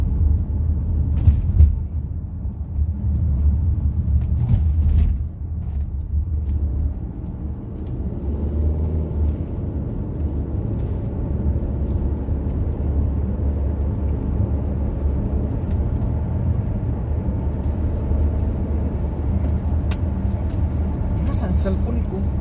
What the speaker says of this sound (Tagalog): Traffic pa din pa airport oh.